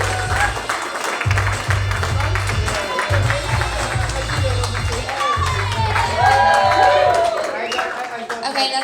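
A comedy club crowd claps and cheers as a comedian is introduced for the second half, a loud continuous roar over thumping walk-on music, with voices mixed in.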